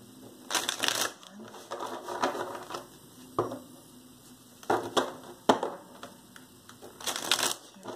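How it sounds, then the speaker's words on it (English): Cards are shuffled in several quick riffling bursts, crisp and close, with short pauses between each shuffle. "Three more shuffles here."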